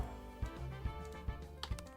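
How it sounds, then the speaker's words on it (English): Typing on a computer keyboard: a quiet, uneven run of distinct key clicks and thumps, close by, with no voices. "Just start typing."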